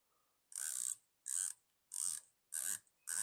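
An elevation turret on a GUNNR Odin 1-10x28 FFP LPVO rifle scope is cranked in five quick bursts of crisp, rapid clicks with short silent gaps between them, close and fairly quiet.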